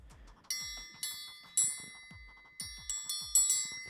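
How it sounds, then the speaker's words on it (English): A triangle rings out in bright metallic pings playing Jingle Bells, about seven struck notes with lingering shimmer, played alone at moderate loudness. "It's actually just on the triangle."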